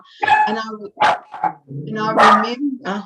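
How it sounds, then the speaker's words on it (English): A pet dog barks several times in short sharp bursts indoors, overlapping with someone speaking. "That's my dog. She's joining in and saying she agrees."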